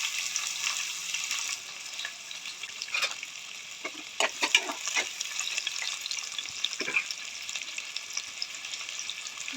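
Small shallots sizzle and fry in sesame oil in a pan for a Tamil mutton gravy, a steady close crackle with occasional stirring scrapes and clinks, no talking.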